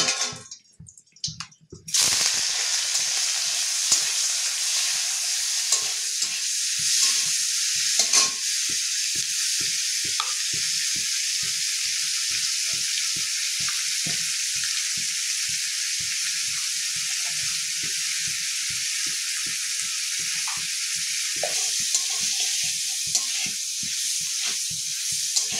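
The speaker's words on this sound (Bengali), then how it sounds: "এবার পনিরগুলো একটু ভেজে নেব।" Paneer fries in ghee and oil in a wok with a little salt. After a brief loud burst, a steady, close sizzle runs throughout, punctuated by regular scraping stirs.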